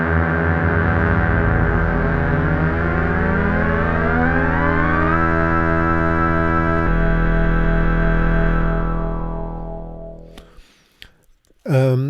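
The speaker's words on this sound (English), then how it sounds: "The sub-oscillator is very unique because it generates some sort of super saw sounds" The super saw sub-oscillator of the Digital synth by Max for Cats sounds loud and thick. Its detuned layers sweep and beat against each other, then fade, and a voice briefly speaks at the end.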